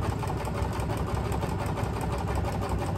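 Sewing machine running steadily while stitching a folded flare hem, a continuous close mechanical whir with a fast even needle rhythm and no pauses.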